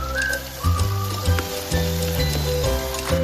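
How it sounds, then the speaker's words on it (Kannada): Cumin and mustard seeds, with asafoetida, crackle and sizzle in hot oil in a pan. A loud, continuous frying hiss is dotted with quick pops, and a tonal background runs underneath. "ಜೀರಿಗೆ, ಸಾಸಿವೆ ಪಟಪಟ ಅನ್ನಬೇಕು"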